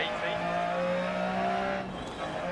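Engine of a Lancia Stratos rally car in the DiRT Rally video game, a steady loud drone held at a constant pitch with a brief shift near the end, and someone talking over it.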